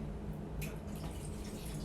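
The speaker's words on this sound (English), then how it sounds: "add some more water." Water is poured into homemade gravy cooking in a pan on the stove, a brief faint splash and trickle against a low background hum, with no talking.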